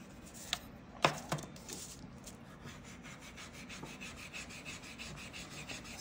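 Steel wool rubs over a lacquered vintage aneroid barometer, making a steady close scrubbing rasp in rhythmic back-and-forth strokes, with a couple of sharp knocks near the start.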